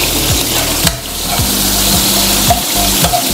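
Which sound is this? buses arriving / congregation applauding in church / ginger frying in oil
ginger frying in oil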